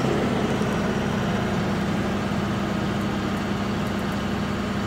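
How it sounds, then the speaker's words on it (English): A John Deere 5R tractor engine runs steadily at high hand-throttle speed with the PTO engaged, a loud, constant low drone without breaks or talk. "We're going to take the hand throttle and go all the way up again."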